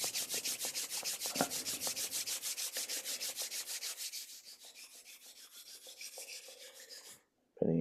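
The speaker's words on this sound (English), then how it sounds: "kind of center myself by rubbing my hands till they get nice and warm" A pair of hands rubs briskly together to warm up, a close, steady swishing rhythm of quick strokes that gradually softens before a brief pause and a final soft knock.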